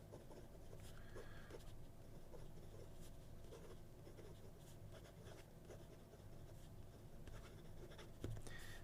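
Montblanc 149 fountain pen with an 18 karat medium nib writing on paper, giving soft, close scratchy strokes in an irregular rhythm over quiet background noise, with no speech.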